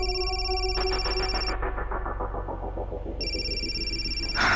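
A telephone rings with a repeating electronic tone that cuts out in the middle, then resumes steady and close.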